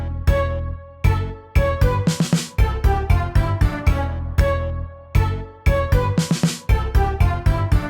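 Interlude with horn, woodwinds, piano, harpsichord and drums: staccato plucked chords in a steady bouncing pattern, punctuated by two drum fills, loud and alone.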